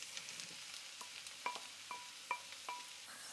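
Mushrooms, fresh along with dried porcini, fry in a pan over translucent golden onions for Italian mushroom risotto, a soft, steady sizzle broken by light scrapes and clinks as they are stirred.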